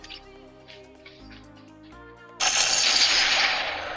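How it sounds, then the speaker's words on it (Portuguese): Automatic gunfire in the mobile video game Fortcraft, with a sudden loud burst of rapid shots cutting in after a stretch of quieter game music and sounds, then continuing steadily to the end. "eles estão me dando tiro"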